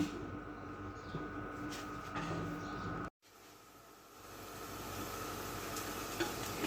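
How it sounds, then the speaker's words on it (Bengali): Garlic and onion frying in oil for tempering a vegetable dal, a steady close sizzle with occasional stirring scrapes and a brief cut in the middle. "রসুন পেঁয়াজটা একটু ভেজে নিচ্ছি, তেলে বাগার দেব সবজি ডালটা"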